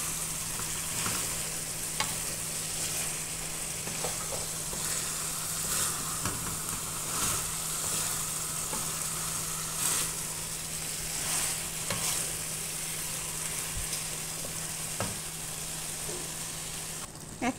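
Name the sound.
frying in olive oil in a pan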